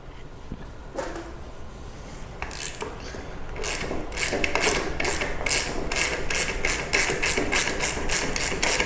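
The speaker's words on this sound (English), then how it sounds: "with your 13mm socket set, we could just take this bolt out" A 13mm socket ratchet loosens the wheel bolt on a Buzzaround mobility scooter, giving close, rhythmic ratcheting clicks that grow steadier and louder toward the end.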